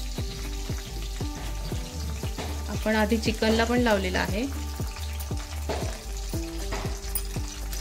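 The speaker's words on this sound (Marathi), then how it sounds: "आता आपण त्यामध्ये फोडणीसाठी लसूण टाकणार आहोत।" Oil sizzles and crackles steadily in a pan as garlic fries, while someone talks over it, with a rhythmic clatter of utensils tapping throughout.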